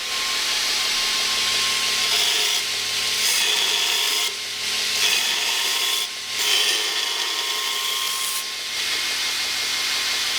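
A raw, unground hatchet held against a 50-grit abrasive on a power grinder gives a steady, loud, harsh rasping hiss with brief dips where the blade is lifted or repositioned, with no talk over it.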